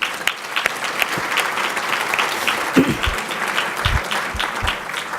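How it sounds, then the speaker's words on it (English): Luncheon audience applauding event sponsors, a sustained crowd of clapping hands with a few low thumps and faint voices mixed in toward the middle and end. "Let's give a round of applause to them."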